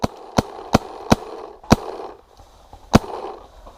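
Paintball markers firing on an open field with small hills, a handful of sharp pops spaced irregularly over steady outdoor background noise, fairly close.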